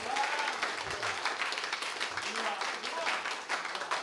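A church congregation claps steadily and enthusiastically during Sunday worship, sustained applause filling the room, with a voice speaking over it.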